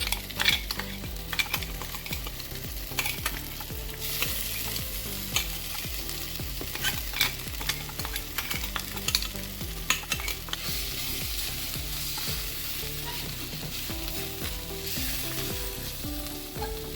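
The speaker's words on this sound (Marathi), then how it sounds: "आता यामध्ये आपल्याला कच्ची हळदीची पेस्ट ती पण चांगली भाजून घ्यायची आहे." Raw turmeric paste roasts in ghee in a pan over a slow flame, a steady soft sizzle with frequent spatula scrapes and stirring clinks, close and without talk.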